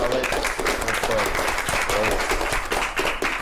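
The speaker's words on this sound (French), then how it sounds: "je crois qu'on pourrait vraiment l'applaudir" An audience applauds during a live event, a dense, steady wash of clapping that runs the whole time at moderate volume.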